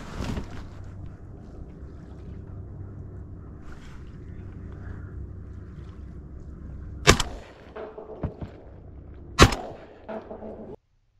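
Two sharp, loud shotgun blasts several seconds apart while duck hunting from layout boats in flooded corn, with a softer pop between them, over a steady wind and engine-like rumble outdoors.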